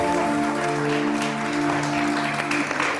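Steady applause from a crowd fills the whole stretch, with a sustained musical tone humming underneath.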